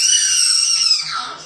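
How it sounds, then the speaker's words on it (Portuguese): A child lets out a loud, sustained high-pitched scream lasting over a second, close and piercing, tapering slightly at the end in a home kitchen setting. "Ele deu um gritão, né?"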